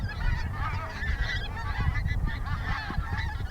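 A flock of geese in heavy fog honks continuously, many overlapping calls at moderate distance, with no talking.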